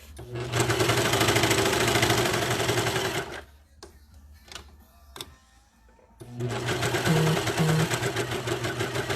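A sewing machine runs steadily while stitching leggings fabric along a diagonal seam, stops for a few seconds of quiet with small clicks and handling noises, then starts stitching again at full speed.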